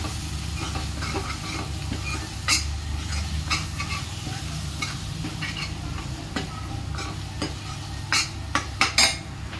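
Chhole masala sautéing in oil in a pan at home, a steady sizzle under scraping stir strokes and several sharp clinks of a utensil against the pan near the end, with no talking.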